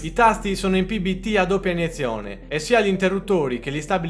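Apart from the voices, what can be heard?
No everyday noise stands out behind the speech.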